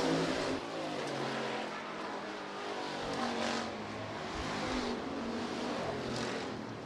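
Hobby stock race cars roar past on the Rapid Speedway oval during a heat race, a loud continuous engine drone with rising and falling surges as cars pass.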